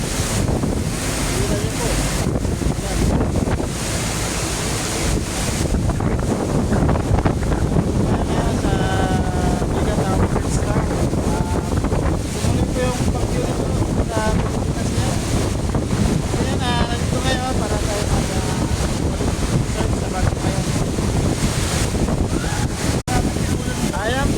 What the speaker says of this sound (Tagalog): malakas po yung ulan natin